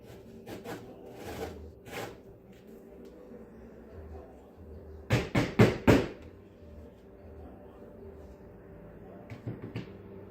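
Blood orange peel is scraped against a grater for zest for a coffee cake, a few short rasping strokes early on and a quick burst of four firmer scrapes midway, close and fairly quiet over a faint room hum.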